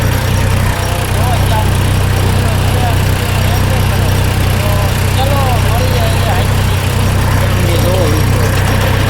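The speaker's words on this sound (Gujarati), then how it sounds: "અવાજ આવતો હોય છે ટ્રેક્ટરનો હોય છે।" A tractor engine idles steadily and loudly throughout, a constant low rumble, with a brief spoken phrase heard faintly over it.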